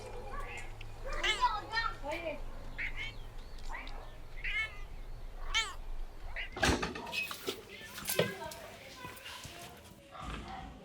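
Cats in an animal shelter meowing repeatedly in short, rising and falling calls, several voices close by. A dog barks among them, and a few sharp knocks like a door or cupboard land near the middle.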